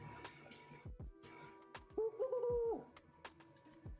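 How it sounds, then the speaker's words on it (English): A short warbling bird call from a video game rises clearly for under a second amid quieter clicks and background game sounds, with no talk over it. "I want to hear the bird noise, I'm sorry."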